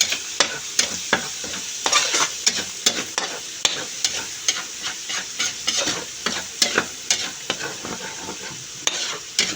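Garlic fries in a hot pan with steady crackling sizzle, broken by regular scraping strokes of a stirring utensil, close and fairly loud throughout with no voices.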